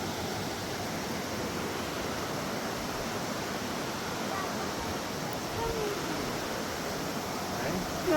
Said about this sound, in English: That beautiful waterfall.